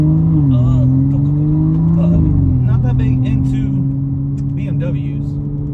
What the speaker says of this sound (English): I am driving my little brother's BMW 335i